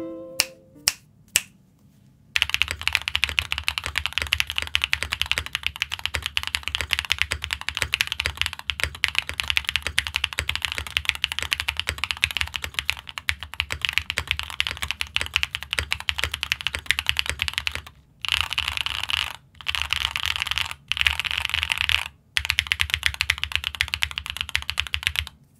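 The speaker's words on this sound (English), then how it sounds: "Here's the stock typing test." Typing on a stock Createkeebs Luminkey 80 pre-built keyboard with linear switches, a fast, dense stream of close keystroke clacks with a few brief pauses, after some isolated taps at the start.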